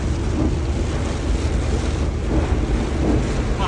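Heavy rain pounding on a car driving near Patan, a dense loud roar of water and wind noise filling the cabin with no clear speech.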